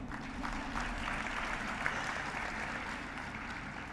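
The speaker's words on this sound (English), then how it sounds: "Applause Kodiyama." Steady applause from a crowd at the Gender Park campus inauguration in Kozhikode, Kerala, a continuous even patter of clapping heard at a moderate distance, without any talking.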